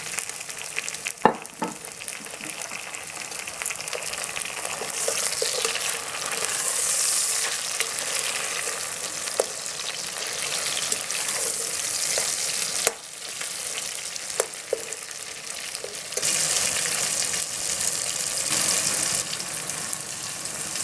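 Tomato and onion fry for liver masala, giving a steady, close hiss broken by scattered clinks and scrapes of stirring, with no talk over the sizzling.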